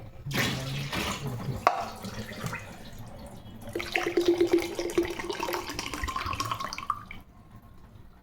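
Water drains and pours out of a Livpure water purifier, a running, splashing flow with gurgling and a brief clunk, swelling louder midway before tapering off near the end.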